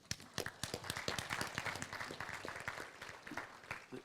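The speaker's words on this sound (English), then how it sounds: "It seemed like the applause was greater for Kelly" Audience applause at a business forum of the Salem Chamber, a dense burst of many hands clapping that carries steadily for about four seconds at moderate level, with no talking over it.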